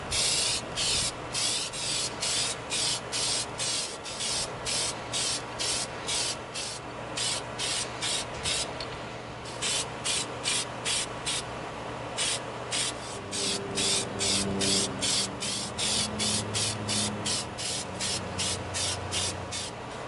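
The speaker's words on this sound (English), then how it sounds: "We're going to begin coating our data knife with our plastidip." An aerosol can of Plasti Dip rubber coating sprays an EVA foam data knife at an outdoor spray stand. The hissing comes in quick, regular bursts, and a low hum creeps in toward the end.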